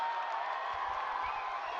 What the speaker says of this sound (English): the crowd loving every bit of it